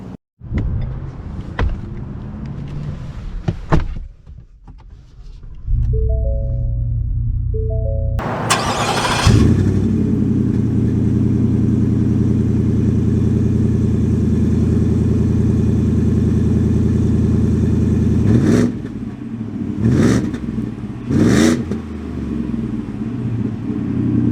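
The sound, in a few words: Ford F-150 Rocky Ridge K2 pickup truck engine driving off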